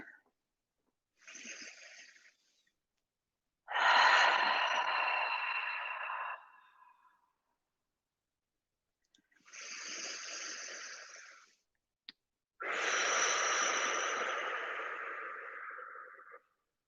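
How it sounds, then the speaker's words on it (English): Four slow, deep breaths taken in a calm meditation setting, each a long, airy inhale or exhale, close and fairly loud, separated by stretches of silence. "perhaps we will start together with 3 deep breaths"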